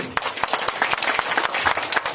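Clapping from an audience at a gathering, sharp, fairly loud and close, with uneven rhythm and irregular individual claps standing out through the short burst.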